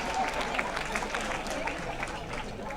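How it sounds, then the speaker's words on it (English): An audience applauds a dance company's performance at a charitable trust's 25th anniversary event in Auckland, a steady, dense wash of clapping sustained throughout at moderate loudness, with some crowd voices mixed in. "Let's give a huge round of applause for Kote Sike Dance Company."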